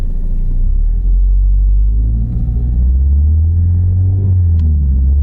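A Ford car with a suspected fault shifting from first to second gear, driven under hard acceleration, heard from inside as a loud, deep engine rumble that swells and drops with the gear change, continuous and without talking.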